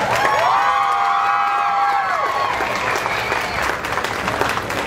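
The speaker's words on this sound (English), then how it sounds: "I'd like to take a moment and ask everyone to give a round of applause for Barbara Book." A pageant crowd at the 2011 Miss Shrimp Festival breaks into loud, sustained applause with cheers and whoops. The clapping stays dense throughout and eases slightly toward the end.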